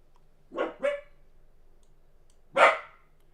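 A dog barks three times nearby, two quick barks in succession followed by a single louder bark after a pause, against a quiet background.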